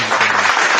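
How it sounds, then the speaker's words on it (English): A brief round of applause breaks out among a podcast studio group, a short dense burst of clapping lasting under a second with no talk over it. "round of applause."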